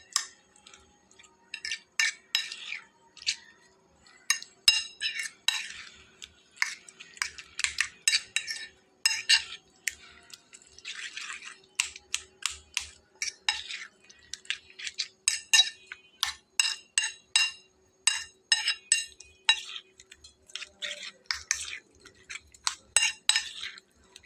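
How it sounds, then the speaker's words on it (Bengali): An egg beaten in a bowl with a fork or spoon gives rapid, rhythmic clinking taps against the bowl, steady bursts of close metallic clatter going on for over twenty seconds with brief pauses. "তো আমার খুব ভালো করে ফেটিয়ে নেওয়া হয়ে গেছে"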